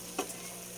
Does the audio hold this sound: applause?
no